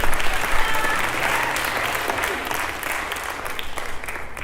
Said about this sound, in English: Let's give a big round of applause to Ria for it.